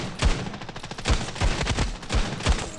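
Desert Eagle pistol fire in the mobile shooter Standoff 2 comes as a rapid series of about seven heavy, close, punchy shots spaced irregularly across three seconds, with no talking over them.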